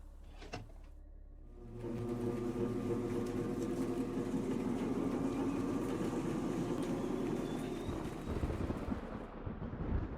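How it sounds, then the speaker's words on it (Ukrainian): Low steady mechanical hum and rumble of an elevator motor running in the horror game Circus: Descend Into Madness, droning continuously for several seconds with faint clanks, no voices. "Двигун працював."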